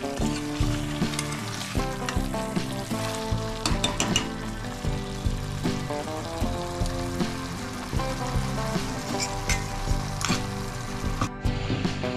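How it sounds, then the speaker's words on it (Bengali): Mutton sautéing in ghee in a pan sizzles continuously under a layer of background music, with occasional stirring scrapes and a steady close crackle from start to finish. "দেখুন এইভাবে কষছি"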